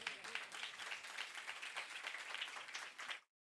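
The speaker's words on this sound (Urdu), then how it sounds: "آئیں اس کے جلال کے لیے زوردار تالیاں." A church congregation breaks into sustained, vigorous applause during a sermon on water baptism, a dense wash of many hands clapping at moderate distance that stops abruptly after about three seconds.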